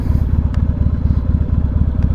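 A motorcycle low on gas idles loudly up close while pulling into a parking spot, a rapid, even low-pitched thumping with a couple of light clicks, no talking.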